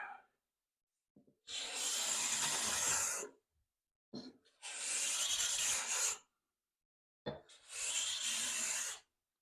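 A Stanley No. 80 cabinet scraper is drawn across wood held at a slight skew, producing three separate long, raspy scraping strokes, each about two seconds, close and clear with quiet pauses between.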